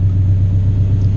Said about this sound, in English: This is the car at idle. Sounds super good.